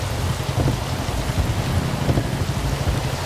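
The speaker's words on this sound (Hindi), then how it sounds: "बारिश हो रही है ना?" Steady rain pours down in a continuous broadband hiss, with low rumbling underneath and no voices, sounding close and fairly loud throughout.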